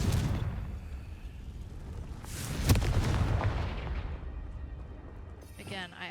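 The Confringo fire spell bursts in the Hogwarts Legacy video game, a booming explosion that rumbles and fades, with a sharp crack near the middle.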